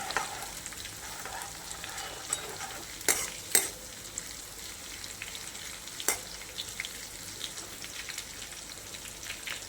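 Steady sizzling of coarsely crushed garlic, chili and ginger paste frying in hot oil, with a few sharp scraping clatters from a spoon stirring the pan.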